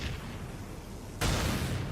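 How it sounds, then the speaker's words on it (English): Mortar fire in the Valkyria Chronicles 4 strategy game, a rumbling battlefield bed broken by a sudden loud blast that lingers as a heavy roar. "Now, let's mortar that trooper to death."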